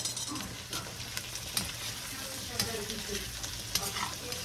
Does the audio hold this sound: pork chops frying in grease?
yes